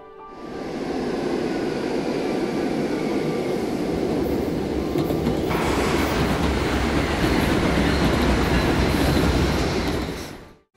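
Streetcar tram running in Nelson, British Columbia, a steady loud rumble of wheels on rail rising in and holding close for about ten seconds before cutting off, with no talking.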